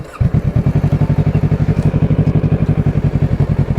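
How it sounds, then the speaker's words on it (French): A 2014 Kawasaki ER6-N, restricted for an A2 licence, idles loud and close after a brief start-up, its parallel-twin engine pulsing in a steady, even thumping rhythm with slight mechanical clatter. "Bon les gars, on va tester une ER6N bridée, donc permis à 2."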